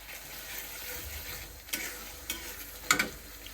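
Spices, ginger-garlic paste and green peas sizzle and get stirred in a pan, a soft steady frying hiss broken by a few sharp scrapes of the spoon, close and with no voices.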